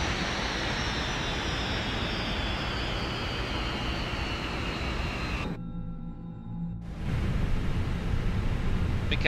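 Airbus A320 jet engines spooling down at shutdown in a flight simulator, a steady broadband roar with a descending high whine that cuts briefly to near silence before a lower ambient hum resumes.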